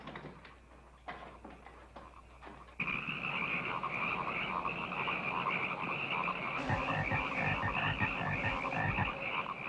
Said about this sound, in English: Frogs attacking windows?